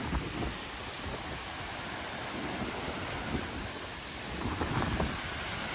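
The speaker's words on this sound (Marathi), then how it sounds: "या उंचावरून पडणाऱ्या धबधब्याचे जे तुषार आहेत ते लांबपर्यंत जात आहेत" Ukshi Ranpat waterfall near Ratnagiri plunging from a height, a steady, loud broadband roar of falling water and spray that fills the whole clip without pause, with wind and no voices.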